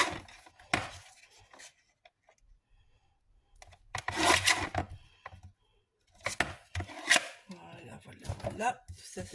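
Paper being cut and scraped in bursts while making an envelope-style scrapbook album, close rasping strokes separated by quiet pauses, with a person talking at moments.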